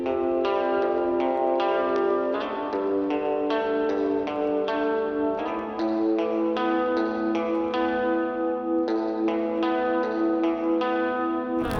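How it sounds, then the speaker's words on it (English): Electric guitar picking single notes of a chord progression one at a time through the Guitar Rig 7 Michael's Delight preset with reverb, each note ringing into a long washy echo tail, steady and close with no talking. "I'm going to play the individual notes spaced out like this."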